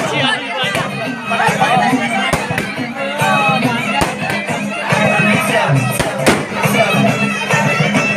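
Sharp firecracker bursts pop at irregular intervals through crowd chatter at a village Diwali celebration welcoming a returning Indian Army soldier in Malpimpri, with voices talking throughout.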